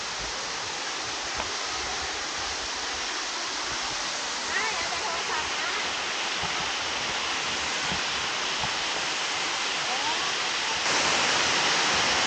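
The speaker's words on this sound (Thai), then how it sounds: "ลงมาดูน้ำตกด้านล่างครับ" Steady broadband roar of a waterfall at a campground in Kanchanaburi, Thailand, continuous and fairly loud throughout with no voices, getting slightly louder near the end.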